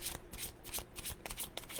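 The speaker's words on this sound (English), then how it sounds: "Shuffle some more." Crisp, repeated riffles of oracle cards being shuffled in quick bursts, close and fairly clear, with no talking.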